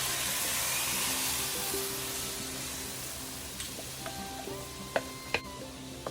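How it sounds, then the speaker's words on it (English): Diced fresh garlic sizzling in a hot pan, loud steady frying hiss that eases slightly, with a few sharp spoon clinks and scrapes near the end as it is stirred. "Now add 1 clove of diced fresh garlic and give it a good stir for a few seconds."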